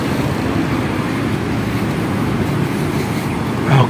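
Cars pass on a busy road, making a steady, fairly loud roadside traffic rumble and hiss for several seconds with no talking.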